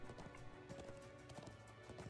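Horse hooves in Trails of Cold Steel 2 clop in a quick, steady rhythm, faint and continuous under a background music tone.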